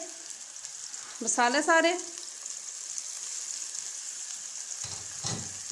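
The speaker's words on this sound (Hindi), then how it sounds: "ये देखिए इस तरह से हमने बिल्कुल हल्का इसको फ्राई करना है" Samosa filling with chicken and vegetables frying lightly in a pan, a steady moderate sizzle throughout, with a woman's short spoken remark and a couple of low knocks of the pan or spoon.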